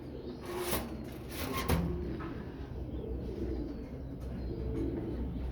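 Breeding pigeons in a home loft give low, rolling coos, several close calls layered over a constant hum, with a couple of sharp knocks early on and no one talking.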